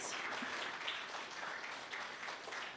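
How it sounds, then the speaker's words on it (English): Audience applause at a 2021 closing ceremony in Detroit, a steady, dense wash of many hands clapping throughout, fairly soft and even with no pauses. "Keep clapping. We're just going to clap it through."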